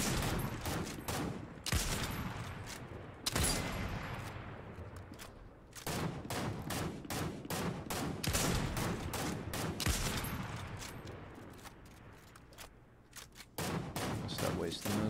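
Gunfire from the video game Fortnite rattles in repeated bursts and rapid volleys, loud and dense, interspersed with single sharp shots across the whole stretch.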